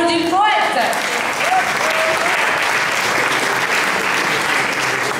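Audience at a poetry slam competition gives a dense, sustained round of clapping, with a brief voice and a whistle or cheer rising at the start before the applause continues evenly.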